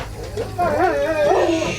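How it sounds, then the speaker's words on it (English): Close by, a dog in the video game Detroit: Become Human gives a drawn-out whining, yelping bark over low background hum. "What's up, doggy? Why are you being noisy?"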